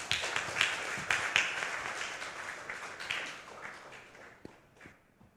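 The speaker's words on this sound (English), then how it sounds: "please join me in giving a big round of applause to" A faint round of applause from guests at a forum dinner, steady clapping that gradually thins into a few scattered claps.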